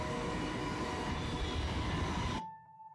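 A train rumbles loudly in a video game trailer for an Unreal Engine title, a dense, close roar of rail noise with a faint whine that cuts off abruptly at about two and a half seconds, leaving a low hum.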